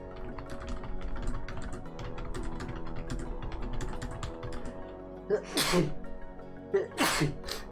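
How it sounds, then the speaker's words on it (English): Two sneezes from a person streaming a tabletop role-playing session, each a sharp close burst, heard after a stretch of steady computer keyboard typing. "why I'm sneezing so much"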